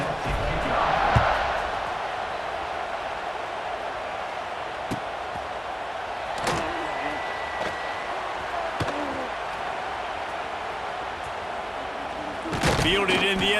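Football stadium crowd roaring steadily before and during a kickoff, a broad sustained wash of voices with a few sharp thumps and a swell near the end.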